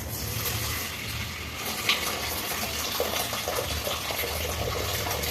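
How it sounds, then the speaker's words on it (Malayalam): Water gushes steadily from a pot as cooked rice is drained in a home kitchen, a continuous close splashing pour with no talking. "നമ്മൾ ചോറ് വാർത്താൻ പോവാണേ"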